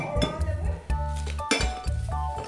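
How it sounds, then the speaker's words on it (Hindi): Toy kitchen utensils and little pots clink and clatter as a child unboxes a play cookware set, giving a run of bright, irregular metallic knocks and jingles close by. "तो फ्रेंड्स काफ़ी कुछ निकाल दिया है तेजस ने, ये हैं इतने सारे बर्तन के साथ"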